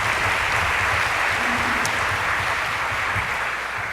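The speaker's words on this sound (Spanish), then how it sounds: "Un fuerte aplauso también para él." An audience gives a speaker a strong round of applause at a parents' school discussion event, with dense, steady clapping that fills the room and stays loud throughout.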